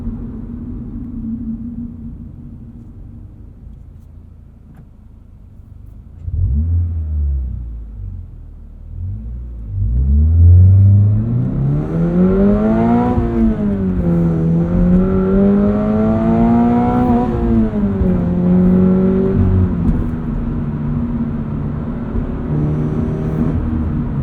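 A 2023 Toyota GR86 Premium with a six-speed manual and GR Performance exhaust starts with a low idle rumble, then revs loudly in rising and falling sweeps through repeated pulls, the exhaust note staying close and steady.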